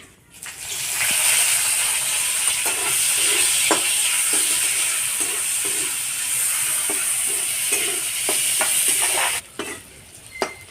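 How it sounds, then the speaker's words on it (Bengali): Finely sliced onion dropped into hot oil with panch phoron, frying for okra chorchori: a loud, steady sizzle begins after a second and runs throughout, with scattered stirring clicks and a brief dip near the end. "ঝিরিঝিরি করে কেটে রাখা পেঁয়াজটা দিয়ে দেবো"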